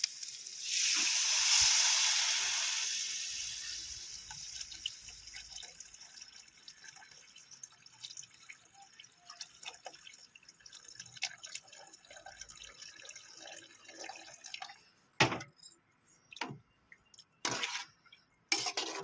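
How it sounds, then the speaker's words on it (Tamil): Tamarind water is poured into a pan of sautéed onions for a simple onion rasam, giving a close, loud liquid hiss and splash for a few seconds, then softer sizzling and scattered drips and clinks. "அந்த புளிக்கரைசலை இதோட சேர்த்துக்கலாம்"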